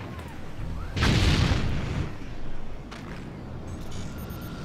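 Ship guns fire in a naval fort-building game, a heavy booming salvo erupting loudly for about a second, followed by rumbling and a fainter second burst.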